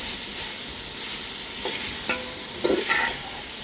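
Paneer kurma with carrot, potato, ginger-garlic paste, salt and turmeric cooking in a pan, a soft steady sizzle with a few scraping stirs and light clinks near the end.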